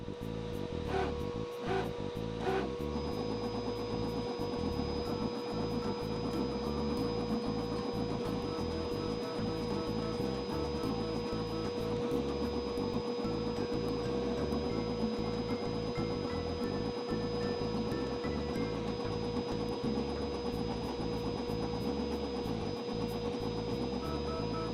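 An xTool M2 laser machine runs its process with a steady mechanical hum and a faint high whine, broken by small irregular clicks and ticks, continuous and fairly quiet.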